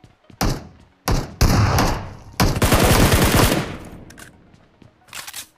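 Gunfire in PUBG cracks close and loud: a few separate single shots followed by a rapid automatic burst, then quieter distant shots near the end.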